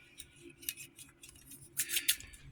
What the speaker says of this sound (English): Now we're going to take these super duper professional shears here